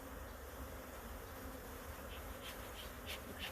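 Honeybees swarm around an opened beehive, a dense, steady buzzing drone with a few individual bees passing closer in the later moments.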